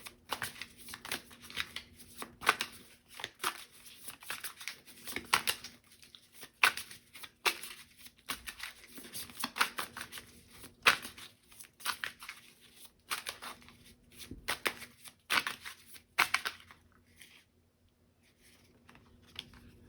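Tarot cards being shuffled by hand close up: bursts of papery riffling and slapping that repeat irregularly for most of twenty seconds, then thin out to quieter handling near the end, with no voices.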